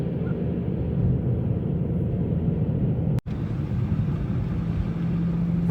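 Steady low road rumble of a car riding along a country road, continuous and fairly loud with a brief dropout partway through, no talking.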